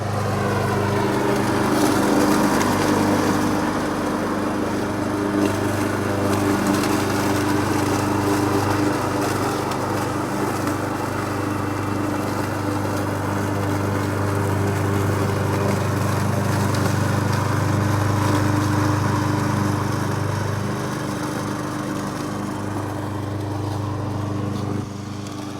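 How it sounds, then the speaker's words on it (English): A push lawn mower cuts grass on a steep lakeside lot, its small petrol engine droning loud and steady at close range for the whole stretch, with no voices over it. "something special that we offer is push mowing"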